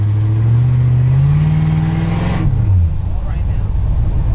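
A 1966 Chevy Impala drives with a loud close engine drone whose pitch climbs steadily as it revs, then drops off as the car coasts; a voice speaks over it.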